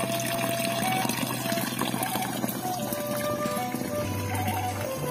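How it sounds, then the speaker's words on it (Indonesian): Water pours steadily from a traditional bamboo-style village spout in a Sundanese village, a continuous splashing trickle heard fairly close, with faint background ambience and a low hum throughout. "Nah ini ada pancuran juga di sini tuh ya, pancuran khas Pelemburan."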